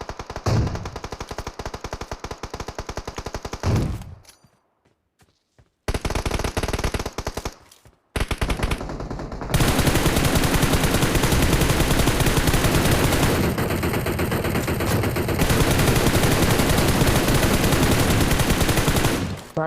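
M416 rifle fire in PUBG Mobile rattles out in rapid automatic bursts, broken by short silent gaps, then turns into a long, sustained, dense stream of shots.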